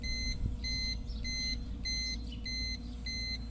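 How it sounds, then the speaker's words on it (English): A kiln's PID temperature controller sounds its out-of-spec alarm: six evenly spaced electronic beeps, each about a third of a second, repeating steadily over a constant low hum. "that's the out of temperature spec alarm"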